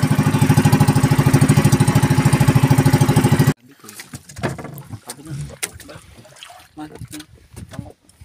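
A loud, steady fishing boat engine chugs for a few seconds, then cuts out, leaving splashing water and nearby voices.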